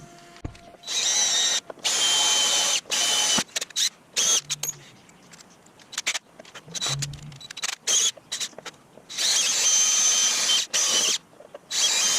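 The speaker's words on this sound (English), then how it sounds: "So I need to drill out those 3 rivets to take this piece out" A power drill drilling out rivets on a 70-year-old engine, whining in repeated bursts, starting and stopping several times, loud and close, with quiet gaps and small clicks between runs.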